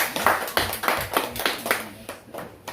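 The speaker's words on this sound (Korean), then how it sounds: "우리 주님께 영광과 박수 올리겠습니다." A church congregation claps in rhythmic bursts during a worship service, steady and moderately loud, settling into a pulsing beat before fading slightly.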